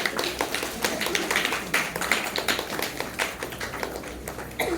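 An audience clapping at a monthly community event held in Sanjaynagar, a steady dense patter of many hands, moderately close and continuing for several seconds.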